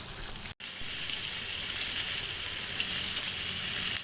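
Chicken karahi with garlic and ginger fries in oil with a dense, steady sizzle close by, briefly cut off once near the start before continuing unbroken, with no talk.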